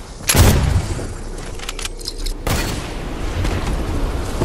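RPG rocket explosions in Fortnite: two loud, booming blasts a couple of seconds apart, each with a sharp onset followed by rumbling debris and crackle, with scattered gunfire-like snaps in between.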